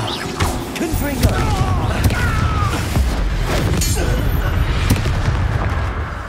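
The Confringo fire spell goes off in Hogwarts Legacy during a duel, with booming, crackling blasts and shattering impacts among spell whooshes and combat noise, loud and close throughout.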